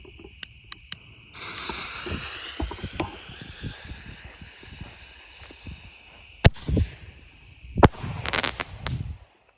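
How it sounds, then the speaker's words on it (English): A tiny 1-inch ball shell from a mini mortar firework kit lifts off with sharp pops and a hissing, crackling burst, then booms several times in quick succession. The bursts are loud, set against outdoor background noise. "I'm going to go ahead and start with this little ball shell here"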